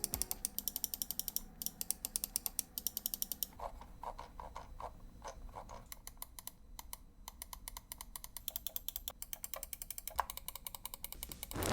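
Rapid, crisp clicks of mouse buttons pressed up close, coming in dense bursts with brief pauses between, no voices.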